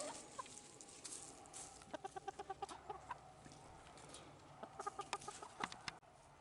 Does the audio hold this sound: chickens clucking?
yes